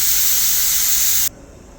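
A pressure cooker lets off steam after four whistles with the stove switched off, giving a loud, steady hiss that cuts off abruptly and leaves a quiet background.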